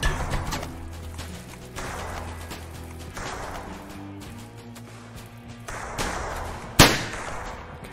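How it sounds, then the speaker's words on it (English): A gunshot fires in a video game about Ned Kelly: one sharp, loud crack stands out near the end over a steady bed of game music and effects. "Okay, I shot that guy."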